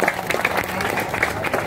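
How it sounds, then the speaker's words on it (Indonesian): An audience at a neighbourhood office gathering applauds, steady moderate clapping from a small crowd nearby, with voices mixed in underneath. "Tepuk tangan buat Pak Teguh"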